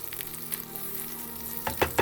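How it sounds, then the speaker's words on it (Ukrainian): Butter melts in a pan for frying croutons for cheese soup, giving a soft, even, close sizzle that ends in a few sharper clinks and scrapes. "Сухарики жаряться на вершковому маслі. Зараз ми вершкове масло розтопимо."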